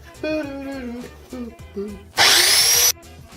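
A power tool trims and sharpens a metal throwing card in a short, loud, high-pitched grinding burst of under a second, after a person speaks.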